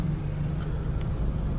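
Cars wait in a long queue at a CNG fuel station, heard as a steady low idling rumble of engines close by with faint traffic noise around and no talk.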